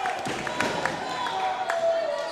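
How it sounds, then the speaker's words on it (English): A crowd at a high school volleyball game between Manatee and Southeast cheers and claps steadily, loud and roomy, beneath a commentator talking. "Seminoles putting a grand stand together as you hear this crowd igniting"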